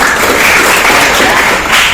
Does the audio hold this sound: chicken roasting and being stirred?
no